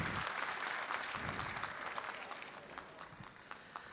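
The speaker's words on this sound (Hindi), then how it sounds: "ऐसी बात नहीं आप तालियां बजाएं।" Faint, distant audience applause at an Indian Republic Day poetry gathering, a soft patter of clapping that fades over a few seconds.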